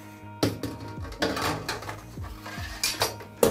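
A brewing basket being set back into a homebrew kettle during equipment cleaning gives a series of close metallic clanks and scrapes, several distinct knocks spread irregularly across a few seconds.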